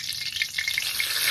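Bay leaf fries in hot oil alongside whole spices in a kadai, giving a close, continuous sizzle with small popping crackles and no voices.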